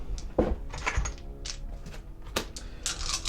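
Dice clattering onto a table during a Warhammer 40k tabletop game, Daemons against Adeptus Custodes, with a series of sharp knocks and rattles of several dice tumbling and settling close by.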